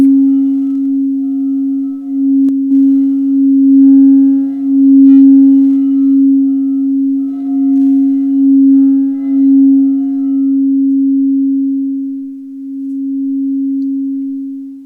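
A steady, pure low hum of the Schumann resonance pitched up into audible range drones continuously at one pitch, smooth and unwavering, with faint higher overtones fading in and out.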